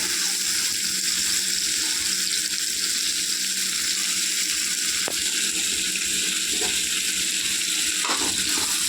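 Curry leaves frying in a pan of cooked-down tomatoes for coriander tomato chutney, a constant close sizzle and hiss with occasional faint taps and stirring sounds.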